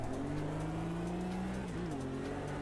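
A race car engine in the Automobilista 2 racing game holds a steady, loud drone that dips and climbs again as the revs shift near the end, continuous with no talk over it.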